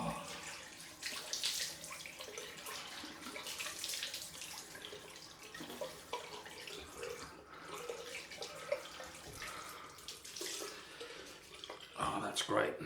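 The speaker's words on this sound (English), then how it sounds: "Right, I'm back, post-shave time, cold splash." Tap water runs into a sink for a cold splash after a wet shave, a continuous close rush with small splashing bursts near the end, faint room sound around it.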